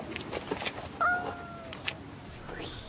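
A domestic cat gives a short meow, one brief rising-and-falling cry in the middle of an indoor scene from a French television crime series, with faint background noise and some quieter chatter around it.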